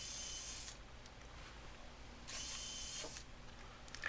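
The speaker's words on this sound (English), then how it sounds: "I drill through the pilot holes on both the top and bottom panels." A power drill whirs in two short bursts with a pause between, drilling pilot holes through wooden beehive panels close by, the second burst slightly longer, followed by a faint tap.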